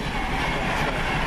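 Steady, continuous rumble of a moving train on rails, a dense close-range roar with faint rhythmic clatter throughout, heard from inside the carriage.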